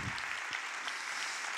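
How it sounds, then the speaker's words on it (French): An audience at an awards ceremony for a hypnosis and pain congress claps for two photographers, a soft, diffuse patter of applause heard from a distance that holds steady the whole time. "je voudrais que vous les applaudissiez, ces 2 photographes"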